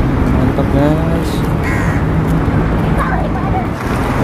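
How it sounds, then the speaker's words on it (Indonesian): A crow caws a few times at medium distance over constant street traffic and engine noise in an outdoor setting in Malaysia. "Kayak suara gagak ini. Suara gagak nih guys."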